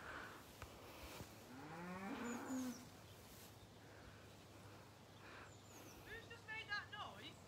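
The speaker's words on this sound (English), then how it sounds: "We got cows next door making a load of noise." Cattle on a neighbouring farm at an animal adventure park moo loudly, a long drawn-out low call near the middle followed by further lowing, over faint outdoor background with birds and insects.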